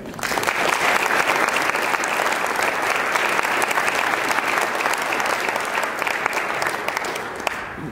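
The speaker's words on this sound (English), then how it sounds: "So round of applause for you guys." A conference audience applauds steadily for several seconds, a dense wash of clapping that fades slightly at the end.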